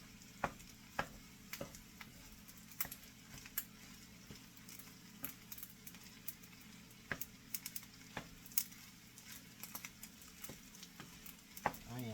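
Egg and rice cooking together in a pan on a stovetop, a soft steady sizzle with scattered light ticks and taps of stirring, quiet and close.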